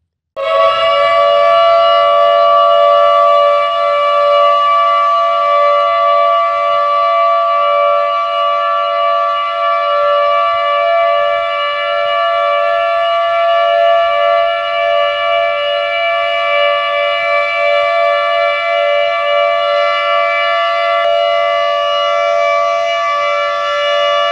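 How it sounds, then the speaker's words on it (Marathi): A civil defense siren sounds at 10:59 for the annual Martyrs' Day observance on Gandhi's death anniversary, holding one loud, steady wail for over twenty seconds with no talk. "दरवर्षीप्रमाणे यावर्षी सुद्धा 10:59 सायरन वाजवण्यात आले"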